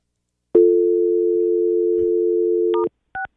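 A telephone dial tone hums steadily for over two seconds before a call to the Grand Sierra Resort and Casino in Reno, then short dialing beeps follow.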